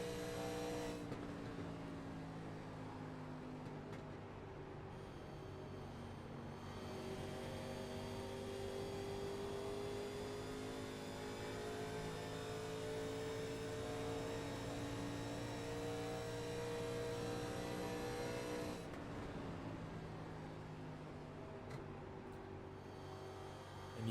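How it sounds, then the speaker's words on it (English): Onboard engine of a 1987-era stock race car at Charlotte in a racing video game, a loud, steady drone running the whole time, its pitch sagging and climbing as the throttle is lifted and reapplied. "You can hear how much these guys are lifting and working these cars here tonight."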